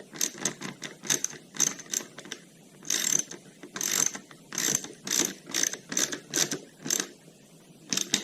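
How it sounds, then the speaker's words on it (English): A ratchet clicks in quick, repeated bursts while tightening the tank cover bolts on an Aprilia Shiver motorcycle. The rhythmic pawl clatter is close and clear, with short gaps between strokes and no speech. "Let's go back to 4mm. Tighten the tank cover."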